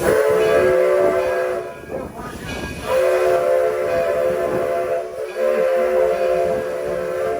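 A steam locomotive, the Edison, rumbles along steadily with a sustained whistle-like tone over the running noise, close and continuous throughout.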